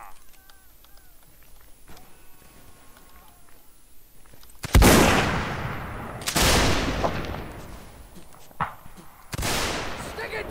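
Musket volleys from cavalry in Mount & Blade: North and South crack out loud in a few separate heavy bursts after a quieter stretch of voices, each shot trailing off into battlefield noise as players talk.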